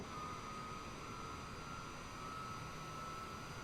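Steady jet engine hum of a Boeing 787-10 in ANA livery in Microsoft Flight Simulator 2020, a constant low roar with a faint whine, even and unbroken, no talk.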